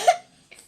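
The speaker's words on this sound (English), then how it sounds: "coughing like crazy." A person coughs, one sharp loud cough followed by a brief quieter second cough or breathy catch, close to the listener with nothing else around it.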